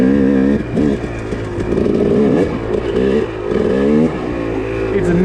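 A 2-stroke dirt bike engine climbing a steep slope in second gear revs hard and crisp up close, its loud buzzing note rising and dipping in a continuous run with a voice speaking over it.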